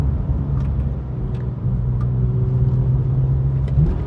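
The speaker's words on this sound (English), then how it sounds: "Very happy to rev." First-generation Porsche 996 GT3 engine, cable-throttle version, droning loud and close, then climbing in pitch as it revs harder from the midpoint, a sustained rising note with no voices over it.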